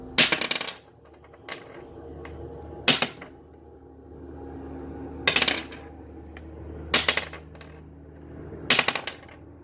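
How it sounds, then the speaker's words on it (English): Dice rolled during a tarot reading, several separate bursts of hard clattering rattles spaced a few seconds apart, close and crisp against a quiet background with no talking. "Actually, wait, let me roll the dice."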